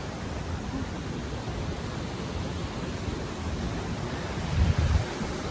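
Steady broadband rush of running water outdoors on Dartmoor in summer heat, loud and continuous throughout with a brief swell near the end, no voices.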